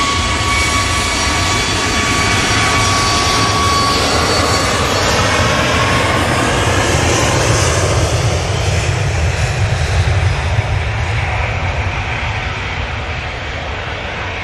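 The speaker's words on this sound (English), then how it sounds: "We've got a prop landing at the moment" A propeller aircraft landing at a busy airport among big airline traffic, a steady loud broadband engine roar with a faint whine, holding for the whole stretch and easing slightly near the end.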